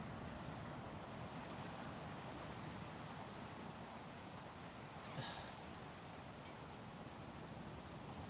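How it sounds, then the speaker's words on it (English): Steady, soft Atlantic Ocean surf on the Grand Strand washes continuously, a constant roar of waves heard from a distance with no talking. "You can still hear the waves"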